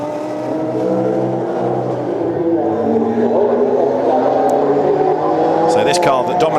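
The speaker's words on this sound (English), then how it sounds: "when it was in the hands of Duncan Houseman, we see the Aston Martin leaping over the curb as well" GT4 race cars, including an Aston Martin, lapping the Nurburgring in a 2014 European Series race, engines droning steadily with rising and falling pitch as they pass, under continuous commentary.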